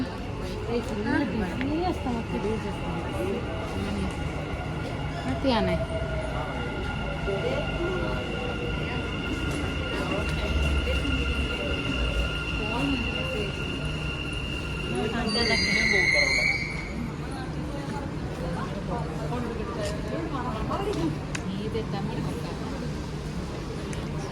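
A metro train at a station platform by a women and children cabin rumbles steadily, with a brief high squeal or chime partway through, while people talk over the noise.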